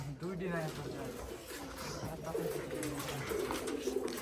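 Low, throaty coos of Giribaz pigeons repeat under a man's speech, with a steady background hum.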